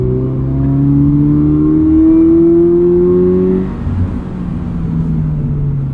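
A modified automatic Toyota GR86 accelerates on a canyon road, its engine note climbing steadily for about four seconds before easing off into a lower, steady rumble.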